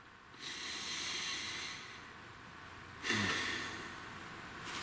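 A deep breath taken before drawing a tarot card, heard as two broad, airy inhalation swells that rise and fade, close and fairly soft, with no talking.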